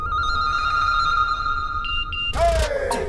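A phone rings with a steady electronic tone for about two seconds, then a sudden clatter and a voice cut in.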